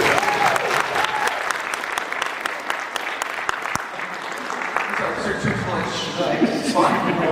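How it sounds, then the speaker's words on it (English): An audience claps for panel contributors at a VTubing talk, a sustained patter of many hands that holds steady and swells slightly toward the end, with a speaker's voice over it. "You can clap for them, that's fine."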